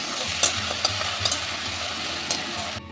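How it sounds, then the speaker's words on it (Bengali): Cumin, dried chillies and garam masala hit hot oil over fried onions, making a steady close sizzle with a few sharp spatters and stirring clicks before it cuts off abruptly. "এখন আমি দিয়ে দিচ্ছি মশলাটা, জিরে, শুকনো লঙ্কা আর গরম মশলা।"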